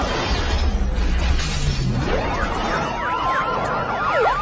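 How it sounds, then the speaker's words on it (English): Wailing sirens rise and sweep up and down in pitch over a loud, rumbling background of traffic and commotion. "Just follow the sirens."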